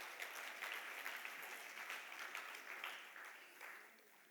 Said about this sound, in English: So a big round of applause to UNFPA.